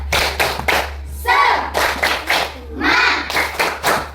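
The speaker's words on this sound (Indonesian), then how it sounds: "Tepuk semangat." An Indonesian classroom of pupils performs a rhythmic spirit clap, bursts of hand claps falling into a patterned beat, with brief shouted voices between the clapping groups.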